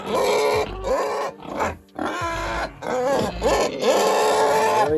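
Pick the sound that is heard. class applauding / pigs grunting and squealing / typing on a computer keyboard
pigs grunting and squealing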